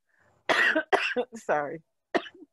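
Several harsh, close coughs burst out in quick succession, followed by a brief spoken word and a final short cough.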